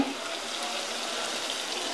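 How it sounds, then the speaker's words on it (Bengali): Water pouring into a pan of chicken curry, a short steady rush of liquid with a soft sizzle beneath it, close and continuous. "পানি দিয়ে দিলাম।"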